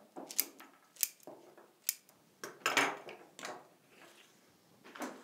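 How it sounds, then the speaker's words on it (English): Scissors snip through flower stems while a bouquet is trimmed for a vase, giving a series of crisp, close cuts at an irregular pace with quiet handling noise between them. "and cut my stems"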